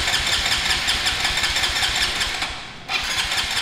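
A flooded Honda Grom motorcycle engine cranks repeatedly without catching, a loud rhythmic starter churn close by that briefly cuts out near the end before resuming.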